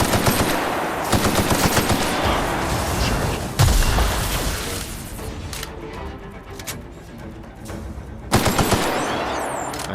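An automatic gun in The Outer Worlds fires long, rapid bursts of loud gunfire that nearly fill the stretch, with sharp renewed volleys after short breaks.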